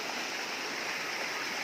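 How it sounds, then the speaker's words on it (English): Water pours steadily over a waterfall near a ghat road, a continuous broadband rush with no breaks, heard faintly and evenly throughout with no voices. "These are the waterfalls."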